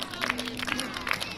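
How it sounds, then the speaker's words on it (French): A small outdoor crowd claps to help keep a kite aloft during kite aerial photography, scattered hand claps sounding somewhat distant and faint over a quiet background. "Allez, faut pas arrêter d'applaudir."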